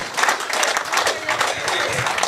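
Audience clapping at a live comedy show, dense continuous applause at moderate level with faint voices mixed in.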